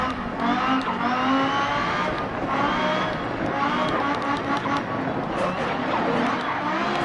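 A car in a PS4 driving game rolls onto gravel with a steady engine drone and rough, continuous tire noise throughout, loud and close.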